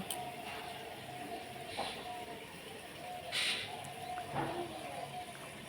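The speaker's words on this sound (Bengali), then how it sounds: "চারিদিকে শুধু পাখি আর পাখি" Faint, scattered bird calls come in a few brief bursts over steady low outdoor background noise, with no one speaking.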